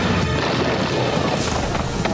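A loud, rumbling blast roars close by, a continuous heavy crash with debris-like bursts, no voices.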